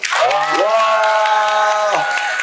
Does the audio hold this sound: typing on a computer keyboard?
no